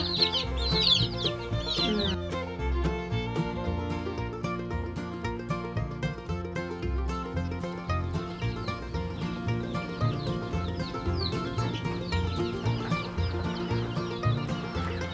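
Chicks in a brooder peep and cheep in short high bursts, heard over steady background music.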